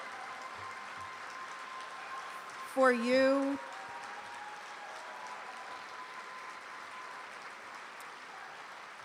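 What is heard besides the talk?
audience applause for EMS competitors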